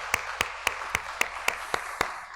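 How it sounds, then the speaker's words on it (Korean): Congregation in a church applauds in steady, evenly spaced claps, about eight sharp beats over a couple of seconds, moderately loud with a faint room wash between them and no voices. "우리 하나님께 영광의 박수 올려드리길 소원합니다."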